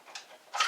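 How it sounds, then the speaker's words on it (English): A Texecom Premier alarm panel, activated while unset, gives a short electronic tone in two quick bursts, the second louder and longer, heard alone in a quiet room. "Should your Texecom Premier panel activate whilst unset,"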